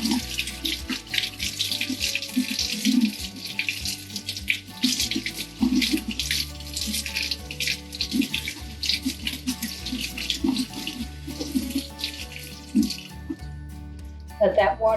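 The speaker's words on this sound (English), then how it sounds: "And then I'm just gonna run some cold water over them." Cold tap water runs and splashes over beans in a strainer in a kitchen sink, a continuous close pouring that stops shortly before the end, with a brief voice near the close.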